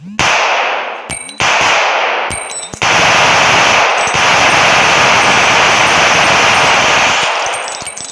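Rapid bursts of automatic fire from a German World War II-era submachine gun in the mobile game iGun Pro, loud and close, with sharp metallic clanks and a ringing ding between the volleys and no talking.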